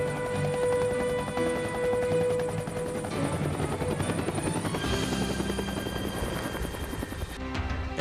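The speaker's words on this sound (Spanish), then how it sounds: "Su característico sonido clop, clop, clop, clop dio origen a la denominación chopper" A Bell 47 helicopter's rotor chops steadily and loudly throughout, a continuous rhythmic beat layered over a droning engine whine, with the pitch shifting slightly near the end.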